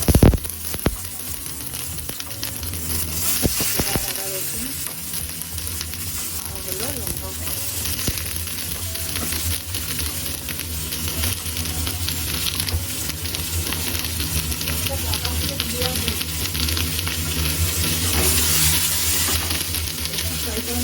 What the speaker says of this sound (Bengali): পেঁয়াজগুলো আগে একটুখানি ফ্রাই করে নিই